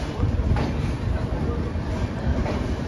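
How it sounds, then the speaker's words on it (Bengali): The Saraighat Express pulls out of Bolpur Shantiniketan station, platform 1, with a low, continuous rumble of rolling carriages heard from on board and a steady high whine above it. "আবার 5 মিনিট স্টপেজ দেওয়ার পরে ডিপারচার হয়ে গেল বোলপুর শান্তিনিকেতনের 1 নম্বর প্ল্যাটফর্ম থেকে"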